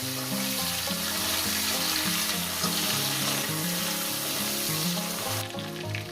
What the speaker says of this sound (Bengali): টমেটোটাকে আমি সুন্দর করে এক এক মিনিট ভেজে নেব